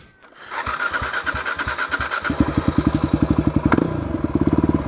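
A motorcycle engine, ridden in the wrong gear, cranks and catches, then settles into a loud, close, rapid chugging with evenly pulsing beats and a brief metallic squeal, with no talking.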